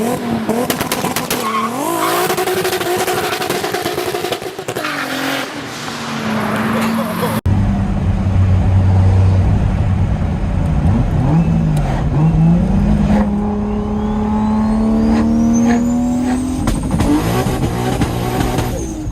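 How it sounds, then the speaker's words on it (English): A turbocharged Toyota 2JZ inline-six revs hard and loud, its pitch climbing and falling in sweeping pulls as the turbos spool up into a rising wail, with a sharp change in tone partway through. "transitions into a spine-tingling wail as the turbos spool up"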